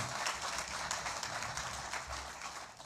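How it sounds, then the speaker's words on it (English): Applause from an audience fills a hall during a conference opening ceremony, a dense and steady patter of many hands clapping that stays quite faint and distant throughout. "Please give them a round of applause."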